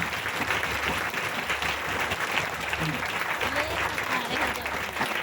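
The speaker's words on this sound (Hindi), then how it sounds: "जोरदार ताली से वेलकम करेंगे मिस्टर अरविंद कुमार जी के लिए, जोरदार वेलकम" A crowd greets a speaker taking the stage with loud, sustained applause, a thick, even clatter of many hands, with voices audible through it.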